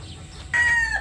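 A hen gives a loud, drawn-out call partway through, rising over a soft background of farmyard murmur and faint clucking from a flock of laying hens.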